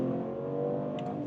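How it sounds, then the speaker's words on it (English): A BMW Alpina B3 GT accelerates hard from 60 to 120 km/h, its engine sounding as a steady, loud drone heard from inside the car. "So that was 60 to 120 kilometers an hour, easily delivered"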